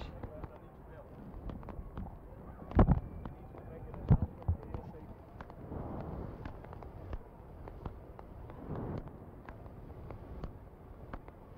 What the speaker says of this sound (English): So while we're enjoying the fireworks overhead